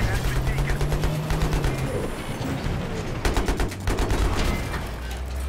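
Rapid gunfire bursts from a tactical shooter game match, with a voice talking over the dense, continuous crackle of shots and game sounds throughout.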